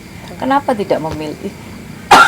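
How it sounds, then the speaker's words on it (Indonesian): A woman gives a short, sharp cough right after speaking, close and loud at the end of her talk. "sorry teman, saya masih batuk."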